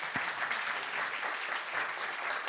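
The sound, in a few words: audience applause at a conference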